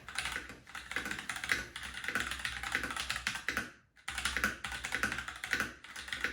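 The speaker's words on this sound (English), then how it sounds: "So this is my first mechanical keyboard." Fingers type rapidly on a Razer mechanical keyboard, producing a dense stream of crisp clicking keystrokes close up, with one brief pause midway before the typing resumes at the same quick pace.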